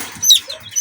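Young chicks in a box give a few short, high chirping clucks close by, quick and scattered in a brief burst.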